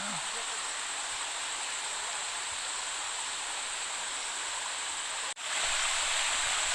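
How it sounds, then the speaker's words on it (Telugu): A waterfall near Gubbala Mangamma Thalli temple on the AP–Telangana border rushes as a steady, broad hiss, loud and unbroken apart from one brief cut near the end. "ఈ వాటర్ ఫాల్స్ చూడండి ఎలా వెళ్తున్నాయి"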